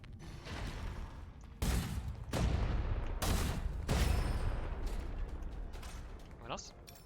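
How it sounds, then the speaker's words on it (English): Rocket launcher blasts and explosions from the shooter game Gunfire Reborn: several loud booming bursts in quick succession, each with a rumbling tail, dense and close, with a short mechanical whine near the end. "Rocket launcher! Boom!"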